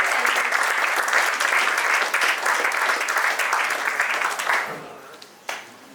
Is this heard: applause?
yes